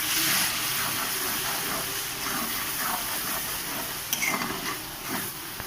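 Spices with salt, bay leaf and green chilli stir-fried in a pan for chicken curry, a steady sizzling hiss throughout with occasional light clinks of a utensil against the pan.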